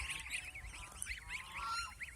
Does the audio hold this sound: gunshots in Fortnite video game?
no